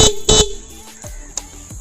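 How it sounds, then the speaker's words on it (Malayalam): A dual horn fitted to a Suzuki Gixxer SF 250 motorcycle sounds two short, loud blasts in an open area, followed by a quieter tail of ambient noise. "നല്ല ലൗഡ് തന്നെയാണ് ഇപ്പോൾ ഇതിൻ്റെ ഹോൺ എന്ന് പറയുന്നത്"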